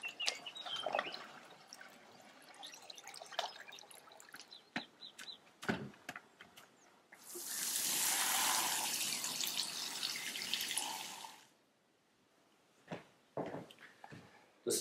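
Water is poured or splashed onto a timpani drumhead to soak it, making a steady rushing splash for a few seconds between quieter drips and handling noises.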